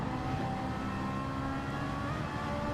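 A Ferrari race car engine in Gran Turismo 7 drones with a continuous, steady tonal whine, holding a sustained pitch with slight shifts and no voices over it.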